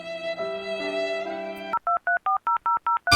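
A telephone is dialed, a run of about eight evenly spaced touch-tone beeps following a stretch of sustained music, close and clear.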